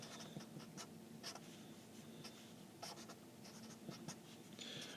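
Pen or marker writing out a maths equation, soft scratchy strokes in short irregular bursts over a faint steady background hiss, with no talk.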